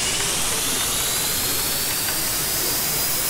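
Jet engines spool up in the Stormworks video game, a loud, steady broadband roar with a rising high whine that fills the whole moment without any talk.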